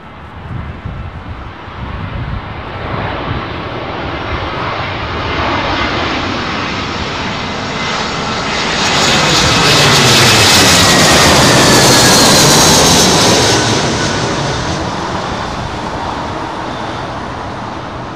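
An airliner arrives on runway 27L at London Heathrow in windy conditions, its engine roar building from a steady distant rumble to a loud close pass around the middle, then easing away with no talk.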